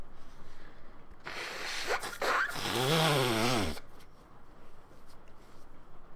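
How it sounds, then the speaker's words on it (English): A single forceful nose blow lasts a few seconds, a loud, honking, fluttering rush of air up close, with quiet background before and after. "I'm going to blow my nose"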